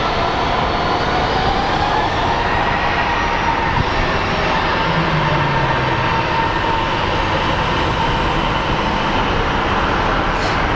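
Jet airliner arriving from Fresno at Phoenix Sky Harbor airport, a loud, continuous broadband engine roar that holds steady throughout with no speech.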